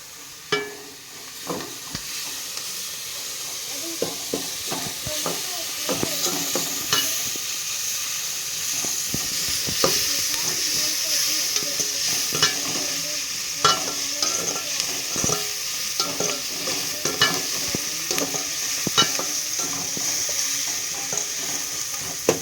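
Crushed ginger and garlic, pounded on a grinding stone, frying for chicken gravy, a steady close sizzle with frequent scraping stirs and clinks of a spoon against the pan.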